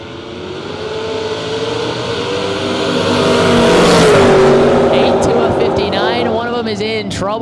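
Chevrolet Monza footbrake drag race car at the BTE World Footbrake Challenge, its engine loud and rising, then revving in harsh bursts near the end, mixed with track announcer commentary.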